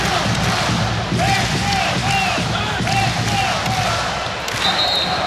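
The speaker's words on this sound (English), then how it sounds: "Crowd trying to turn up the volume knob a little bit here" Volleyball crowd at a Hawaii vs UCSB senior night match swelling into loud sustained cheering and shouting, a dense roar of many voices filling the arena, with a commentator's voice faintly mixed in.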